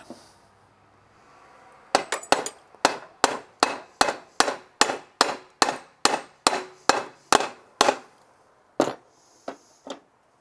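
A hammer strikes a metal rod to straighten it, a rapid run of about fifteen loud, ringing metallic whacks at a steady beat, then a few slower, spaced blows close by.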